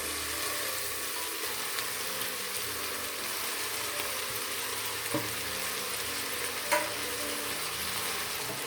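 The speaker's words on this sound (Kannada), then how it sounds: "ಸ್ವಲ್ಪ ಎಣ್ಣೆಯಲ್ಲಿ ಇವೆಲ್ಲ ಚೆನ್ನಾಗಿ ಫ್ರೈ ಆಗೋಕ್ಕೆ ಬಿಡ್ತಾ ಇದ್ದೀನಿ" Spinach and spices frying in oil on high flame for palak sambar, a steady close sizzle with soft stirring scrapes and a couple of brief clinks, no voices.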